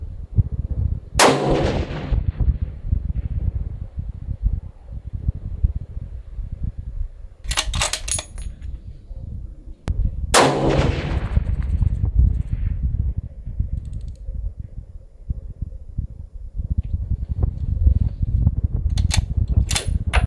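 Long-range rifle gunshots outdoors, several sharp loud cracks spaced seconds apart, some closely paired, over a constant low wind and rumble background.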